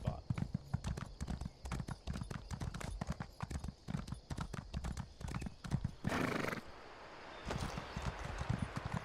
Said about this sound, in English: Probably would be smart to get on the horse.